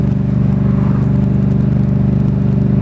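A Yamaha MT motorcycle engine cruises steadily in fourth gear at about 3,000 rpm and 33 mph, a loud, even low drone with wind rustle and no talking.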